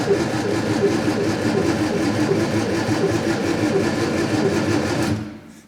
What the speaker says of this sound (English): let's energise our starter motor